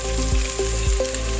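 Chilli mushroom is tossed with chopped coriander in a hot pan, giving a steady sizzle with a few soft scraping strokes of a spoon at a regular pace.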